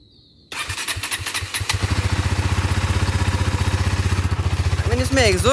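A motorcycle on its stock exhaust system fires up after a brief quiet moment, then settles into a loud, steady idle with a rapid, even thump, close by, with a voice talking briefly near the end.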